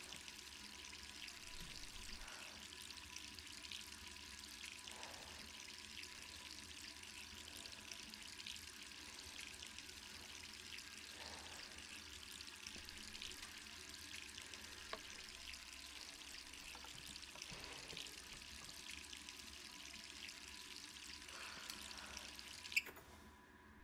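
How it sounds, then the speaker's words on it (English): Bathroom faucet running in Resident Evil 3, a continuous soft stream of water with faint dripping and splashing textures, fairly quiet and steady throughout before a small clunk near the end. "So Jill, similarly to her nightmare, heads into the bathroom, turning off the faucet, and stares at herself in the mirror"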